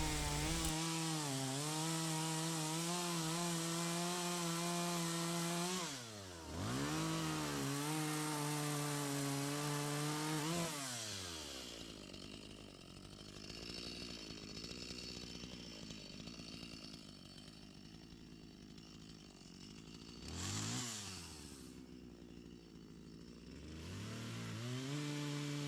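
A chainsaw cuts into a hard maple tree in snowy woods during thinning work, its loud engine droning steadily, dipping briefly, then revving and bogging in the cut with short throttle swells near the end.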